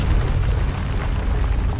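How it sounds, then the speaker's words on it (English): Deep, continuous rumbling booms fill the clip, a dense low roar of explosions in Mass Effect Legendary Edition with no pauses and no voices. "Explosions!"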